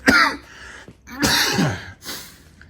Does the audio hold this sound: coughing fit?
yes